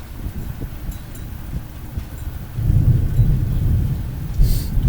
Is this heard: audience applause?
no